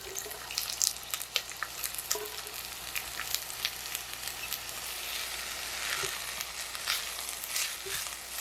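Steady sizzling and soft crackling of eggplant frying in olive oil, with scattered pops and no talking.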